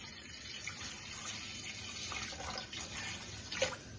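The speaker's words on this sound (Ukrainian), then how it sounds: "заливаємо водою так, щоб тільки покрила м'ясо" Water runs from a tap into a pot of meat for soup, a steady moderate splashing stream with a few brief louder gurgles near the end.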